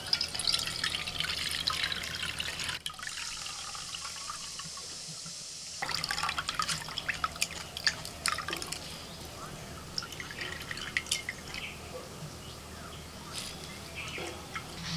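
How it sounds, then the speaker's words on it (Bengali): Freshly extracted coconut milk trickles and drips through a sieve into a bowl in a home kitchen while making malai prawn biryani, a soft steady liquid patter with a brief quieter gap partway through. "এবার একটা ছাঁকনি দিয়ে ছেঁকে নিচ্ছি"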